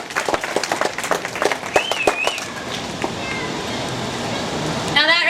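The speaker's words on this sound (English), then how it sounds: "Guys, give him a big round of applause." An audience at a dolphin show in Clearwater Beach, Florida claps in a short scattered burst mixed with crowd noise and splashing water. The clapping fades into a steady outdoor wash, and a voice comes in at the end.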